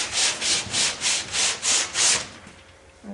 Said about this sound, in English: I just got a little bit of pre-cleano on a rag, like a paint pre-cleano, And I'm just gonna rub it over it